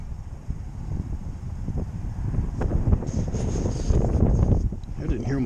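Wind buffets the microphone in low rumbling gusts, growing stronger partway through, with faint higher tones above.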